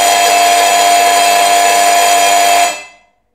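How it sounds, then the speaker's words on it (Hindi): A school's electric bell buzzer, set on a 45-minute period timer, gives one loud, steady, harsh ring that holds for nearly three seconds before stopping abruptly. "45 मिनट के ऊपर टाइम पूरा हुआ तो पहला बज़र ऑन हो चुका है"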